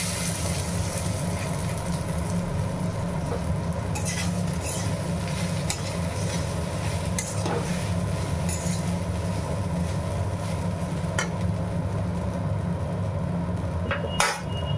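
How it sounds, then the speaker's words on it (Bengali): Soaked flattened rice (chira) tipped into a pan and stirred for chira pulao: a steady close sizzle and rumble runs throughout, broken by a few sharp spoon-on-pan clinks, with no talking. "এবারে চিড়েগুলো দিয়ে দিচ্ছি।"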